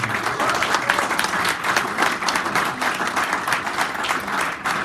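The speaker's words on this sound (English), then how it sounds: "a serious round of applause, not just for the presentation, but for the huge amount of work that's gone into this." Audience at a presentation giving a sustained round of applause, dense, even clapping from many hands throughout, fairly close and loud.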